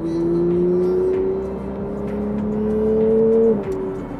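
A Porsche GT3 Touring engine revs steadily while driving, its tone climbing gradually and then dropping as the driver shifts, loud and close throughout with no talking.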